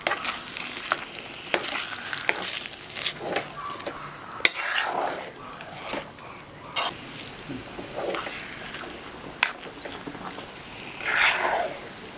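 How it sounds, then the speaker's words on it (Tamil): Kozhukattai dough being stirred with coconut oil in a pan, giving a steady soft sizzle broken by repeated scraping and clacking strokes of the spoon against the pan, heard close with no talk. "அடி பிடிக்காம மிக்ஸ் பண்ணிட்டே இருக்கணும்."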